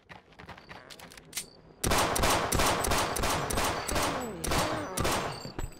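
Zombie cops open fire in the shooter game They Hunger: after quiet, a loud sustained burst of rapid gunfire erupts, with repeated shots and volleys continuing close and unbroken.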